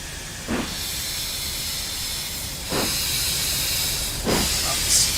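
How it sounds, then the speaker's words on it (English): Steam locomotive in a train simulator game hisses steadily as it sets off from Fort William Station, with three sharper bursts of steam rising over the continuous hiss. "open the regulator, and let's get this train moving"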